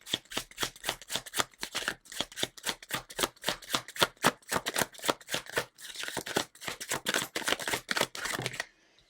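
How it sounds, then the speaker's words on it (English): A tarot deck is shuffled by hand in quick, close riffling bursts, a steady run of crisp card flutters with brief pauses, continuing for several seconds before stopping abruptly; no talking. "Let's get to shuffling."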